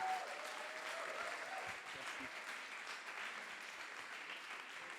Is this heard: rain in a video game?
no